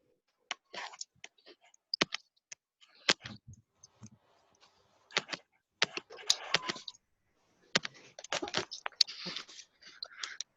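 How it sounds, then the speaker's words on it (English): Keys clatter on a computer keyboard in irregular bursts of close, crisp clicks, separated by short silent pauses. "Yes, I'm typing."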